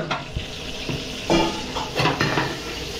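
Onions and garlic going into hot cooking oil and butter for frying, with steady sizzling and a few scrapes of a utensil stirring in the pan; no one speaks.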